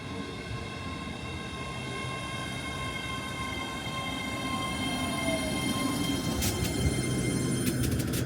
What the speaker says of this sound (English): I'm going to take this train straight to Glasgow Queen Street, which is the next service to arrive on this platform.